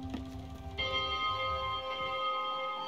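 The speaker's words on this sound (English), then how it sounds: "I can actually ring the bell." A single bell rung aboard a boat in the video game Spiritfarer gives a bright tone with a long shimmering ring, quiet and alone, fading over a few seconds.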